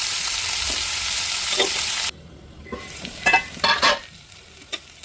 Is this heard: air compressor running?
no